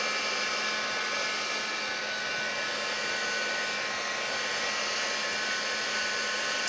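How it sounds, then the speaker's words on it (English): A heat gun blows continuously on a wet craft card, a steady, close, even whoosh that holds unchanged from start to finish, with no voices. "we can heat set it with a heat gun"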